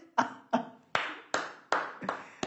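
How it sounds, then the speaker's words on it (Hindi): Six sharp, separate hand claps ring out at a slow, slightly uneven pace, each a crisp close smack with a short tail, alone with no talking. "ताली बजाओ इस लड़के के लिए"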